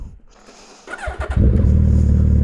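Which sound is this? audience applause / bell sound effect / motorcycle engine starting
motorcycle engine starting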